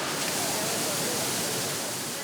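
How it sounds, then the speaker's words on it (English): Heavy typhoon rain pours down in Japan, a dense continuous roar of broadband hiss with no breaks, loud and steady throughout. "now we're bang smack in the middle of a typhoon"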